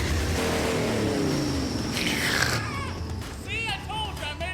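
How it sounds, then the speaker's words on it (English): A car engine in a video game cranks over and keeps running, a loud, steady mechanical drone rising in pitch, with a voice talking over it throughout. "I have literally spent ages trying to make this car run."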